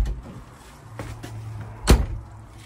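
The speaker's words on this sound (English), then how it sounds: "I'll just close this door" The door of a 2014 Roller Team 694 motorhome swings shut with a single solid thud near the end, preceded by faint rattling and low road rumble.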